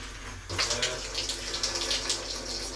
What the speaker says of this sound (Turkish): Kıyafetlerimiz makinede değil, elimizde yıkıyor.